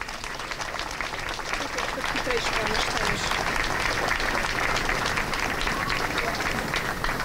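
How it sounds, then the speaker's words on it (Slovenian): Audience applause at a Slovenian pro-life march gathering, broad steady clapping from a large crowd sustained evenly throughout, with no pauses. "Velik aplavz vsem."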